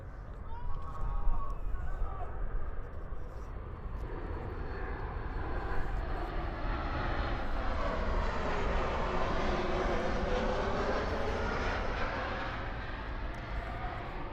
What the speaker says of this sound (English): I apologize for any background noise you hear as planes fly overhead.